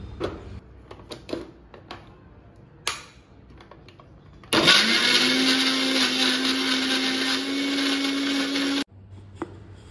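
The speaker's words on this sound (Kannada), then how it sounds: "ನೋಡಿ ಇದರೀಗ ಹೆಂಗೆ ಮಿಕ್ಸಿ ಜಾರಿಂಗೆ ಹಾಕುತ್ತಾ ಇದ್ದೆ" A mixer grinder mashing bananas whirs loudly and steadily for several seconds, then cuts off abruptly, preceded by light clinks and handling sounds.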